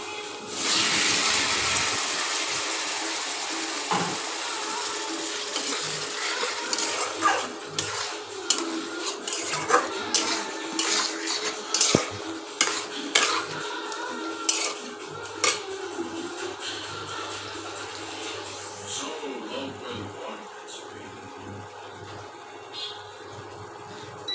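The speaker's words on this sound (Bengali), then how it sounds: "পুরো চিকেনটা দিয়ে দেবো এবার।" A whole chicken being added to a hot pan and stirred as it fries, with a steady hiss under repeated clinks and scrapes of a utensil against the pan; no talking.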